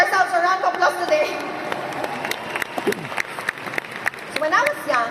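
Audience applause at a leadership training seminar, a burst of clapping that swells and fades over a few seconds, mixed with some voices and cheering.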